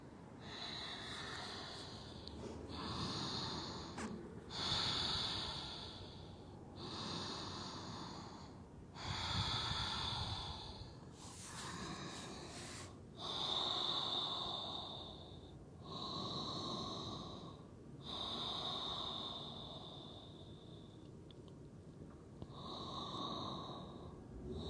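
Slow, deep breaths during a Forrest Yoga hip-release stretch, folding over the left leg, with steady long inhales and exhales through the nose and mouth, close and repeating about every two seconds, with no talking.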